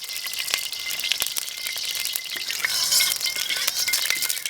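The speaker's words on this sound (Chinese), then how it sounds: "这油温烧热，下入鱼头煎" A grass carp head fries in hot oil in a wok while pickled cabbage fish is being made, with a steady, fairly quiet crackling sizzle broken by sharp pops and a few light metallic clinks, and no voices.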